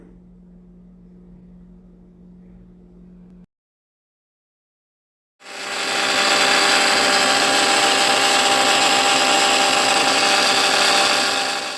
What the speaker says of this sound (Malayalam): ഇതെല്ലാം ഇട്ട് കൊടുത്തിട്ട് നല്ലതുപോലെ മിക്സ് ചെയ്തെടുക്കാം.